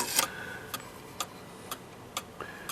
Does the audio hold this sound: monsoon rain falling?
no